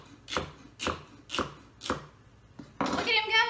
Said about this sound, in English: So he's just going to give it a rough chop and dump it into the food processor.